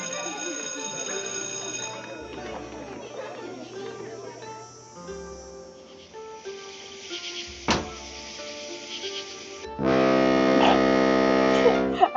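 Nancy's alarm clock goes off in the Nancy Drew game Shadow on the Water's Edge: a loud, steady electronic buzzing ring that cuts in abruptly near the end after quieter background music and tones.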